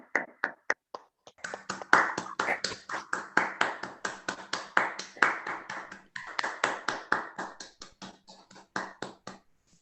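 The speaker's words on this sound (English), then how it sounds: "Professor Oehl and President Markopulos, I think that both of you deserve a big round of applause." Scattered claps grow into a lively round of applause from a small group at a general assembly session, individual hand claps distinct and close, then tapering off.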